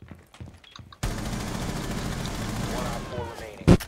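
Sustained burst of automatic gunfire from a teammate's gun in the tactical shooter Rainbow Six Siege, loud and continuous for about three seconds with rapid overlapping shots, followed by one sharp blast; a voice speaks briefly before the shooting starts.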